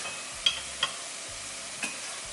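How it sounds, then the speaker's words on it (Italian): Minced meat and soffritto frying in a pan on a gas burner, a low steady sizzle with a few soft clicks and stirring bumps, close and fairly quiet with no talking. "Facciamo soffriggere."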